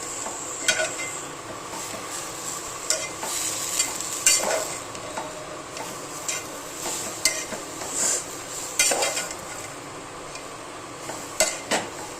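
Vegetable bhaji stirred in a frying pan with a spoon, soft scraping strokes and occasional clinks over a low steady sizzle, close and fairly quiet with no talking.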